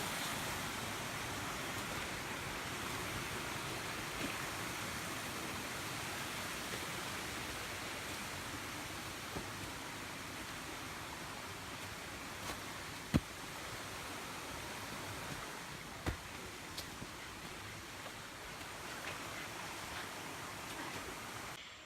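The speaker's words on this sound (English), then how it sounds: "Another waterfall." A waterfall of cold mountain water rushes in a steady, broadband roar that fills the scene without pause, with a few faint clicks and no voices.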